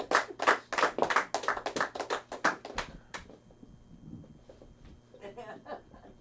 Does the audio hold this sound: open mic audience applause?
yes